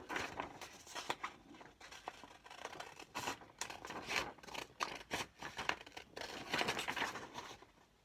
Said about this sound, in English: my handy scissors. And I'm going to cut this out.